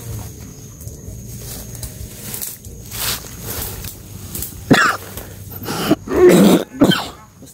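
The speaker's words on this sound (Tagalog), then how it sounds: "Ubo ko." A person coughs and clears their throat several times, close and loud, the bursts growing stronger toward the end over a quiet outdoor background.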